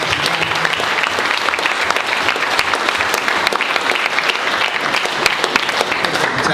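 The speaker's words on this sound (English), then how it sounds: "we should give a big round of applause" Loud, sustained applause at a boxing press conference, a crowded room clapping in a dense, crackling patter with sharp individual claps popping through, steady for several seconds.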